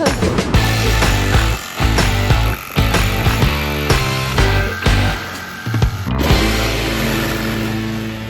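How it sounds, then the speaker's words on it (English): A jigsaw cuts a large hole through a van's metal roof for a skylight, loud rapid buzzing blade strokes in bursts with brief stops and restarts. "the first time using a jigsaw ever should be cutting a huge hole in my roof"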